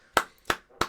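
Three separate, sharp claps, close and evenly spaced, from a single person rather than a crowd, set in near silence during a live Star Trek: Picard review.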